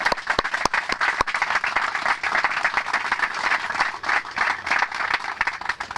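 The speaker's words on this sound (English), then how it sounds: "Let's hear a round of applause for everybody." An audience at a Boys & Girls Club garden project event gives a steady burst of clapping that lasts the whole stretch, dense and even, with a few sharper individual claps near the start.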